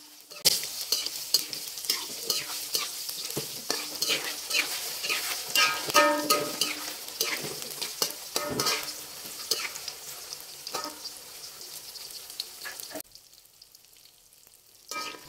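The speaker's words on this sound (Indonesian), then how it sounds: "Jika minyaknya sudah panas, goreng tahunya terlebih dahulu." Steady sizzling of tofu frying in hot oil, close up, with light scraping and clicks from stirring. The sizzle cuts off abruptly near the end.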